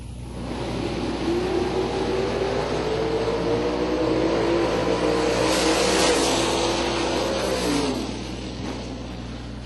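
A blue and orange Camaro drag racing at a bracket race, a loud sustained engine roar that rises in pitch as the car accelerates down the strip and then fades, heard from a distance with no voices over it.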